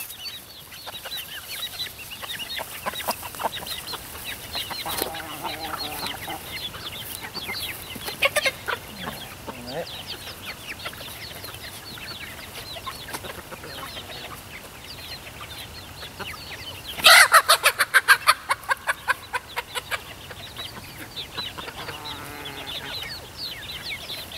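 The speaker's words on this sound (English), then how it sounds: "Watch me chase chickens." Chickens cluck and squawk intermittently around a farmyard, with a louder flurry of rapid flapping and squawks partway through.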